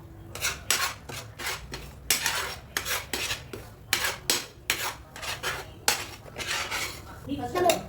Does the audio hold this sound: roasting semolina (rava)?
yes